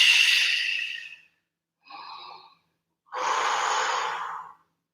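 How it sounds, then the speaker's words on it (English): Deep, deliberate breaths taken during a home Pilates workout: three separate breath sounds, each a long airy exhale or inhale, close and clear with short silences between them and no talking. "Deep breathing."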